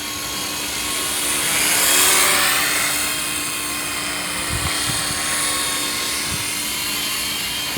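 A WLToys V912 remote control helicopter with a modified servo whines steadily at a high pitch, fairly close, with a faint breezy rumble and a couple of soft thumps underneath.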